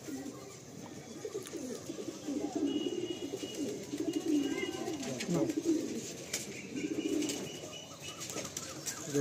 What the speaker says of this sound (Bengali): খুব সুন্দর এটা পায়রা